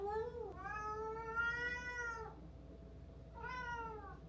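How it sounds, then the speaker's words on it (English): A cat meows loudly twice at a closed door, drawn-out and plaintive, with a pause between the cries, close by and alone. "he's literally gonna stand in front of that door for hours meowing"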